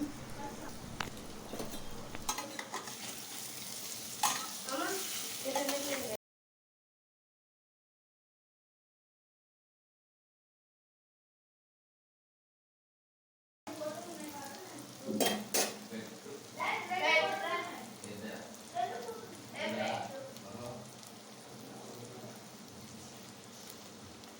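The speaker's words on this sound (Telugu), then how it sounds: "ఆ పన్నీర్ని ఇక్కడ దీంట్లోకి యాడ్ చేసుకోవాలి ఇక్కడ మీకు చూపిస్తున్న విధంగా ఇలా జస్ట్ ఆయిల్లో ఇలా జస్ట్ ఫ్రై చేయాలండి" Paneer frying in hot oil for a restaurant-style paneer curry, with soft sizzling and occasional stirring scrapes, broken by a long silent gap midway.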